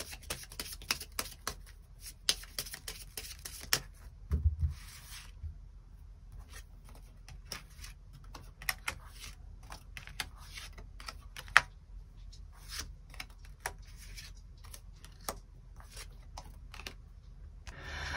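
Tarot cards are shuffled and drawn by hand in a quiet room, giving soft crisp riffles, flicks and light taps in irregular bursts, close and faint, with no talking.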